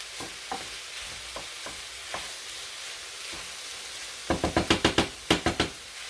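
A curry mixture cooks in a pan while being stirred, a soft steady sizzle punctuated by sharp scraping clacks, sparse at first and then a quick rhythmic run of strokes near the end.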